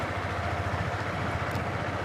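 A motorcycle rides along a bumpy, winding village road, its engine giving a steady low drone that continues without a break at moderate volume and is heard alone.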